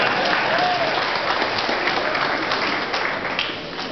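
Dense, steady applause from an audience at the official launch of Zimbabwe's first technology shop, sustained and fairly loud throughout with no voices over it.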